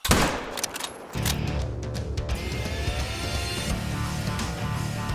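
A rifle shot at a Roosevelt elk in the hunting game theHunter: Call of the Wild, one sharp close crack followed by a long rolling echo and low rumble that lingers through the rest of the clip, with no talk.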